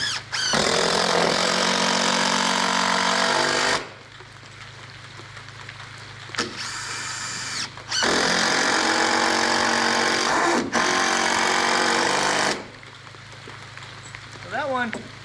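Structural screws driven into a deck ledger and joists for an A-frame cabin, an impact driver roaring loudly in long bursts several seconds each, separated by short pauses, close by with a voice speaking briefly.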